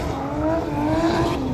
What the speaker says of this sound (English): As you can hear from that one on the track there, that's a Skyline GTR on the track there.